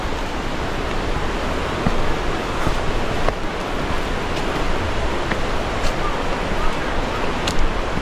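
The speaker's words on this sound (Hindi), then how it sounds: "ओहो झरने," Steady broadband rush of a waterfall tumbling over rocks at a natural spot near Dandeli, Karnataka, continuous and fairly loud with faint wind buffeting the microphone.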